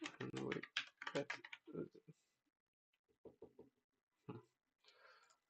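Rapid clatter of computer keyboard typing mixed with someone talking at first, then short isolated bursts of keystrokes after a pause, close and moderately quiet.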